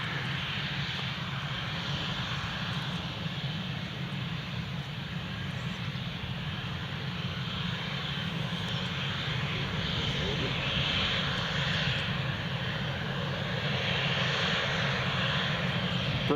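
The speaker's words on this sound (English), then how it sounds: "KLM Embraer 190 just about to line up now" Engines of a KLM Embraer 190 jet lining up at Newcastle International Airport, a steady loud roar with a broad low rumble holding level throughout, heard from outdoors at a distance.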